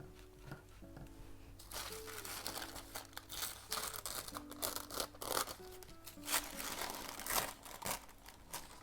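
Paper tears along a ruler's edge in a run of crisp rips and crinkles, close up, with a few small pauses and handling noises between pulls.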